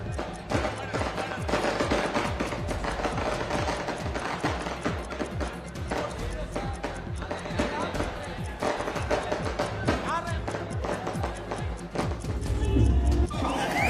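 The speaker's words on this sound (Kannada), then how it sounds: "ದಯವಿಟ್ಟು ಪಟಾಕಿ ಹಚ್ಚಬೇಡಿ ಗಣ್ಯರು ಮಾತಾಡುವಾಗ" Strings of firecrackers burst in rapid, dense crackling volleys at a JDS political rally in Hassan, continuing loudly throughout with crowd voices mixed underneath.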